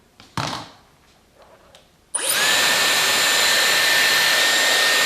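A Dyson Airwrap hair styler switches on after a few soft handling clicks and brushing sounds, then blows hot air in a loud, steady high-pitched whoosh close by with no talk.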